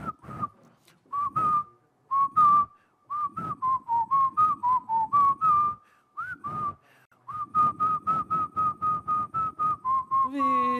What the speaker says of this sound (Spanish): preparado para el silbido, listo ya.